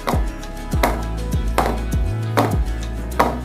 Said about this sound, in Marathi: टॅप केलं म्हणजे त्याच्यामधली हवा जी असते ती रिलीज होते